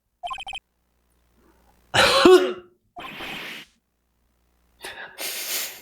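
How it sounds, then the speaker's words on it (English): A rough, harsh throat-clearing grunt in the video game Phoenix Wright: Ace Attorney stands out between short electronic tones and a burst of noise, with no talking. "Maybe I should clear my throat?"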